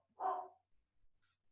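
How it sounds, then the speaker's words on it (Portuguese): A neighbour's dog gives a single short bark, close enough to stand out against an otherwise quiet room, followed by faint rustling. "Por que essa cachorra da vizinha começou a latir agora?"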